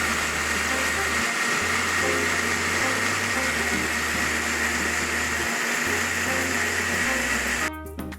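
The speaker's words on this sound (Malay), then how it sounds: "Kemudian kita blender lah daun pandan ni sampai hancur, sampai dia jadi juice" A loud, steady blender whirring continuously as it purees pandan leaves into juice, with its pitch shifting slightly between speeds, then cutting off near the end.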